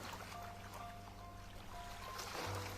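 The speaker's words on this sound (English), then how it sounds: "the sound of the waves drowned it all out." Ocean waves in the underwater diving game Seabed wash and rush as a steady, dense surf roar, with faint tonal game music drifting underneath and no talking.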